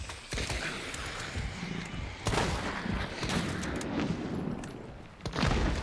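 Video-game gunfire with a red barrel exploding: dense, loud bursts of shots and a heavy blast that stay busy from start to finish.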